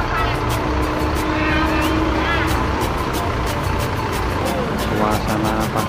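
Sugeng Rahayu bus pulling in from the Jogja direction on a cold, misty Monday morning beside a busy toll road, heavy continuous engine roar with brief horn-like tones over the traffic din, close and loud.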